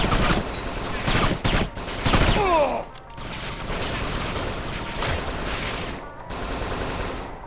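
Gunfire in Kane and Lynch 2: Dog Days, with loud rapid bursts of automatic shots and crashing impacts that break off and start again, over a steady background of battle din.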